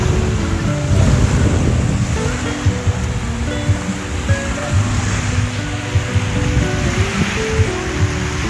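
Ocean waves surging and breaking at a beach during a family summer trip, a continuous rushing wash with repeated crashes, buffeted by heavy wind noise against the microphone.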